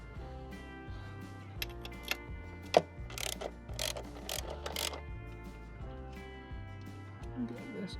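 Spanner ratcheting on a 14mm bolt behind the footrest of a vintage Suzuki GT750 motorcycle: quiet, irregular metallic clicks and clanks up close, in short bursts.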